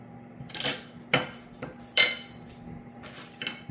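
Jerk meatballs in sauce are stirred in a pot, a spoon knocking and scraping against the metal in several distinct clanks spaced unevenly over a quiet background.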